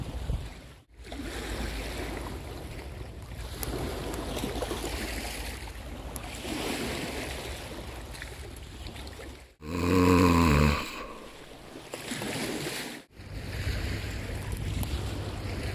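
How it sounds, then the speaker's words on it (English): Steady broadband wind buffeting over the muddy Mississippi River, loud and continuous with gusty swells, a short break of harsher rumbling near the middle and brief dropouts. "it's the wind's blowing"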